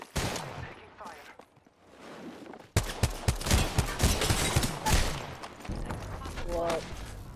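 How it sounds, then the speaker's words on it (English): Gunfire in the video game Apex Legends during an Arena match, bursts of rapid automatic shots and single cracks piling up loudly, with a voice talking over parts of it. "Taking shots. Taking fire."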